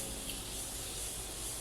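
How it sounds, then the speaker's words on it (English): Morphe Continuous Setting Spray misted onto a face: a steady, close, fine hissing spray that holds evenly throughout with no pause and no talking. "Really quick, I'm going to spray my face with some setting spray."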